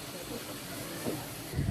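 Fish frying in a pan in a home kitchen in Madaripur, with a steady soft hiss and sizzle over low background rumble, and a few faint bumps near the end.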